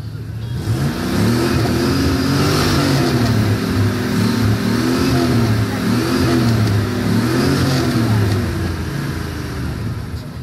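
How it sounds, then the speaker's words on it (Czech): A 1960 Ford's engine revs outdoors at a sound contest, rising and falling in several repeated throttle blips over a steady rumble, loud and close with crowd noise around it. "Takže Fordka z roku 1960, krásná, nádherná, pojďme si ji poslechnout."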